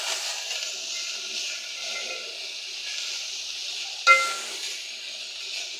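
Onions frying in a pan for spaghetti bolognese give a steady close sizzling hiss, broken by one sharp metallic clang of a utensil against the pan partway through as they are stirred.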